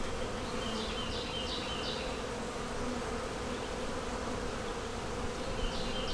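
Honeybees buzzing steadily in a starter nuc on a farm, a dense continuous hum close by with faint higher whines from individual bees passing near, no talking.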